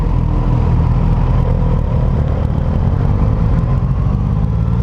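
A 2019 Suzuki GSX-S 1000F motorcycle on the move, giving a loud, constant engine drone mixed with wind rumble and road roar, heard close from the rider's position with no voices.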